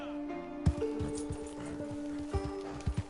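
Horse hooves clip-clopping along a trail in Red Dead Redemption 2, a steady series of close, distinct thuds over a soft ambient hum with faint tonal background music.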